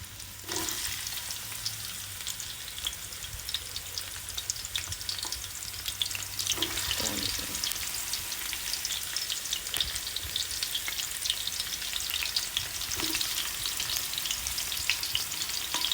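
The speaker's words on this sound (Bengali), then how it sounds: "আমি এখন এটাকে ভালো করে ফ্রাই করে নিব" Chopped onion frying with cardamom, cinnamon and bay leaf for mutton kosha, a continuous dense sizzle with occasional scrapes of a spoon stirring, steady and close without speech.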